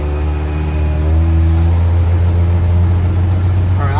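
A 1977 Chevy C10 engine with a faulty Monojet one-barrel carburetor revs up under acceleration, a loud close droning rumble that climbs in pitch and holds strong.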